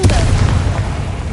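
Confringo fire blast spell in Hogwarts Legacy: a loud, deep boom that bursts out at once and rumbles away over a second, with a voice briefly present.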